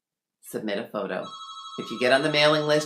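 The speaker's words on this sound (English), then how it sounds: "I apologize for the ringing phone in the background" A telephone rings in a home office, with sustained electronic ring tones sounding in the background while a person keeps talking over them.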